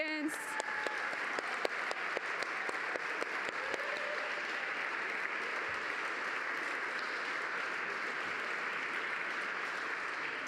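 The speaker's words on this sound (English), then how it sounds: "so we can give you a round of applause" Audience applause for pitch finalist teams at an innovation night event, dense sustained clapping from a large crowd filling the room, steady throughout after a brief voice at the very start.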